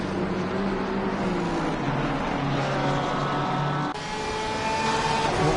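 Race cars, including a BMW, scream through Salmon Park at Bathurst in a sim racing game, a loud continuous engine whine with pitch shifts and a brief dip before revving again.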